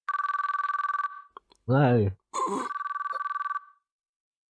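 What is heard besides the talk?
telephone ringing repeatedly in a visual novel video game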